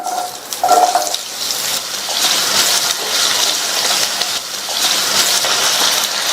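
Peeled, cubed potatoes hit hot oil where cumin seeds have already spluttered, giving a steady, close, hissing sizzle that swells and settles over several seconds with no voices.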